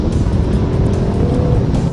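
A 2019 Mercedes-AMG GT 63 S four-door sports car on Michelin Pilot Sport Cup 2 tyres accelerates hard, its engine a loud, continuous, close-up roar throughout with no talk.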